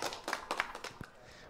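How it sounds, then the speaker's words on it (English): A few people clap briefly at a whisky tasting, a short burst of close, uneven hand claps that fades within a second or two. "Everybody's clapping for you"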